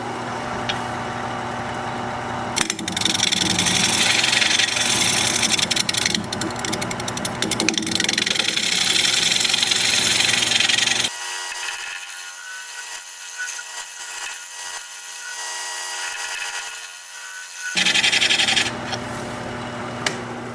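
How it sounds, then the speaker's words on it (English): A wood-turning scraper cuts holly on a lathe, giving a steady, loud rasping and scraping. It drops out for several seconds to a quieter high hiss before the cutting resumes, with no talk. "I think I'm going to try my scraper."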